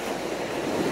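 Ocean waves on a Palm Beach, Florida shore, a steady loud wash of surf and breaking water filling the whole moment with no voices.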